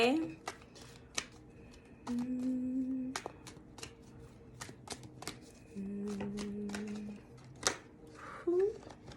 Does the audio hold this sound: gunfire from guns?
no